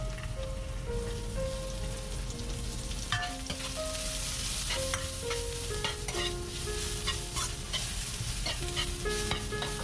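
Spring onion, ginger, garlic and chili frying in a small amount of rapeseed oil in a wok, a steady loud sizzle with stirring scrapes and occasional clinks throughout, with no talking.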